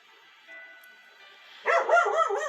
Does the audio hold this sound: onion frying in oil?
no